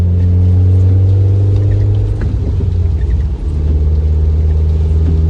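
A Mitsubishi Evo X with traction control switched off rumbles loudly and close, its engine droning steadily, then surging briefly midway before settling back into a heavy, continuous hum.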